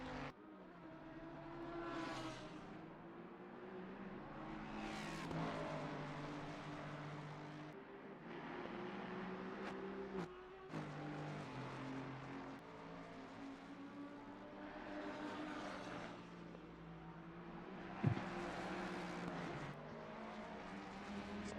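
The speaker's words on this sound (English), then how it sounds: "Still battling, trying to get that position of Mike Burkhoff in that number 16 Ford Mustang, or the number 90 Ford Mustang in 16th place" Race cars in an endurance event on the Imola circuit in a racing video game, including a number 16 Ford Mustang, with steady engine drone and repeated rising revs as cars accelerate through the field, continuous and fairly loud with no talk.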